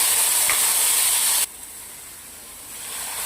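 Potatoes drop into hot ghee with grated ginger, garlic and onion, a loud hissing sizzle that cuts off abruptly and then returns as a soft, slowly rising fry.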